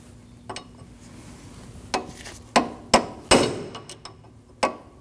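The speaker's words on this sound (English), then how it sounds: "What you want to do is you want to peen your nut into that cutout." Peening an axle nut into the axle cutout on a 2003-2008 Subaru Forester front CV axle: about eight sharp metallic hammer strikes, irregularly spaced, ringing briefly and close up.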